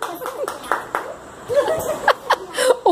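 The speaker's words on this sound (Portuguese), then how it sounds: "Palmas, gente!" An audience claps briefly at a children's worship song performance, scattered uneven claps over murmuring voices and a few chuckles, moderately near.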